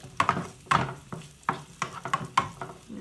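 Quartered yellow onion cooking in butter and olive oil, with sizzling interrupted by repeated scrapes and clatters of stirring against the pan, several strokes in irregular rhythm.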